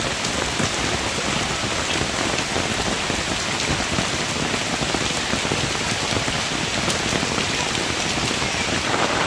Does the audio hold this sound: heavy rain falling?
yes